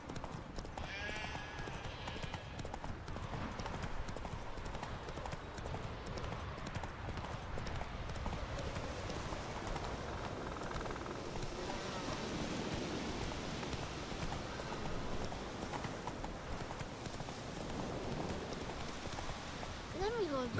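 Roach, the horse in The Witcher 3, moving at pace, with steady hoofbeats that run throughout under a constant wash of rain-like noise and scattered game sounds, fairly loud and close.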